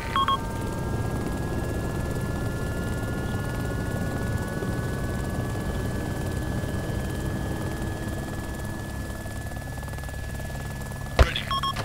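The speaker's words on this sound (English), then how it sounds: "board that chopper" A helicopter in the military video game Arma 2 drones on steadily, its engine and rotor hum continuous and fairly loud, with a couple of short electronic radio beeps at the start and end.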